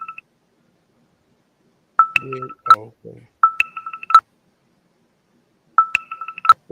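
Keypad tones from a Bluetooth phone beep in short rapid clusters separated by silences, loud and close, with a voice speaking briefly between the first groups.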